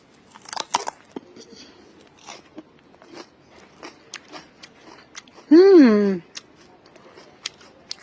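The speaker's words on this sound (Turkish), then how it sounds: "Bir ısırık alsam mı?" Crisp crunchy bites into a raw ridge gourd (luffa), a few sharp close snaps early on, followed by a loud voiced murmur and scattered faint chewing sounds.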